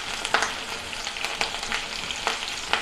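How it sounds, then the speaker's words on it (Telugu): Sliced onions with a pinch of salt fry in a pan, giving a steady soft sizzle broken by a few sharper crackles and stirring scrapes, close up and with no talking. "సాల్ట్ కొద్దిగా యాడ్ చేస్తున్నాను, తొందరగా ఆనియన్ తొందరగా ఫ్రై అవ్వడానికి సాల్ట్ యాడ్ చేస్తున్నాను."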